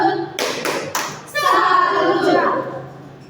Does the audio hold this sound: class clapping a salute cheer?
yes